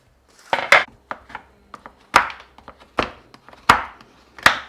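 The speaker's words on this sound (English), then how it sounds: "I'm just going to chop up some chocolate." A knife chops dark chocolate on a cutting board in sharp, separate strikes. The blows come unevenly, some single and some in quick pairs, and each one is close and crisp, with no talk over them.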